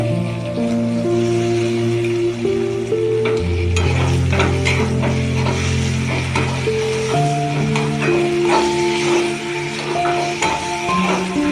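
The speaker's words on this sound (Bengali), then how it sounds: "চালটা ভাজবো, চাল ভেজে" Steady sizzling as rice fries in a pan for khichuri, with occasional stirring scrapes and clinks, close and continuous, alongside a low hum.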